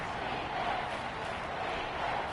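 Faint, steady crowd roar from a Madden 21 football video game stadium, a broad continuous wash of fan noise for a home field pressuring the offensive line, with no commentary audible.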